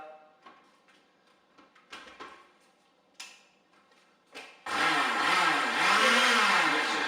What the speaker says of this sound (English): just chuck it in the blender.